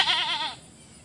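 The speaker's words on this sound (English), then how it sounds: "The one you hear crying in the background is, I don't know if you can see her. There's a white goat back there." A Nigerian Dwarf goat cries in the background with one wavering, bleating call lasting about half a second, then goes quiet.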